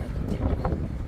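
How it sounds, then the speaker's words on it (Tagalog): Strong wind buffets the microphone on the long jetty at Welshpool, Victoria, a steady low rumble of gusts that stays loud throughout, with no voices. "Malakas ang hangin."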